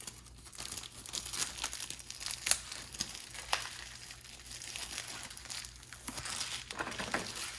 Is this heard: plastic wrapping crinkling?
yes